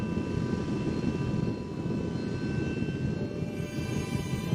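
Animated spacecraft thrusters fire at maximum thrust in a continuous loud, rumbling roar with steady engine hum and faint tonal whine, sustained throughout without pause.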